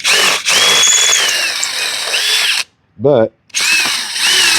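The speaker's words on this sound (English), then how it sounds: "we're going to drill this out" A power drill bores out rivets on a John Deere zero-turn mower, a loud whining run that stops abruptly, then a short revving burst and another sustained drilling pass, close up, with a brief spoken word.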